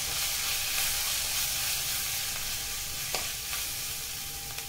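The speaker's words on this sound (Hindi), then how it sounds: "अच्छे से मिक्स करेंगे।" Spices being stirred into a dahi bhindi okra curry in a pan on a medium gas flame, a steady close sizzling and frying hiss with a faint scrape of the spoon, no voices.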